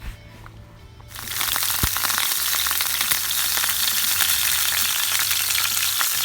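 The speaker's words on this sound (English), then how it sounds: "We're going to start off by adding some butter to the pan." About three tablespoons of butter and some olive oil hit a hot frying pan with a sudden loud sizzle that settles into a steady, close, crackling fry. The butter is being melted to start a garlic sauce for shrimp.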